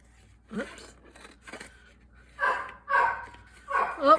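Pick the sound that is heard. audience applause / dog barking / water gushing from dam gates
dog barking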